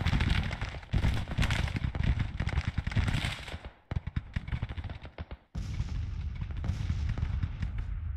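Canister artillery fire in Grand Tactician: The Civil War, heard as dense rolling volleys of booming shots and crackling gunfire, a sustained barrage that briefly thins and falls quiet before erupting again at full intensity.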